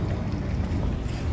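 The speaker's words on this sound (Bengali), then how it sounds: "আমরা বসে গেছি স্পিড বোটে।" A speedboat rides across the sea in the Maldives, giving a steady, loud rumble of engine and rushing water mixed with wind buffeting the microphone.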